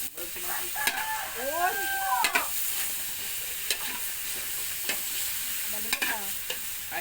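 Garlic frying in cooking oil while being stirred for pancit, a steady sizzle with scraping stirs and a few sharp clicks; a rooster crows faintly in the background.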